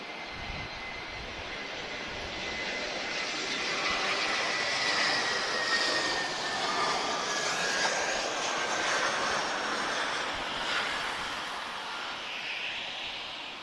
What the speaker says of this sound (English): So A320-214 inbound from Praia, TP1546.